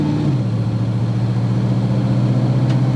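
Car engine under quarter throttle, revving up steadily as a 2004R automatic transmission in drive shifts up from first gear, a loud continuous drone close by with no talk.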